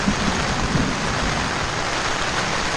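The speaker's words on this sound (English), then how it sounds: "These are the storms we're getting hit with." Steady heavy rain from a passing storm falls at a backcountry campsite in the 10,000 Islands, a dense continuous hiss with no breaks, close and loud throughout.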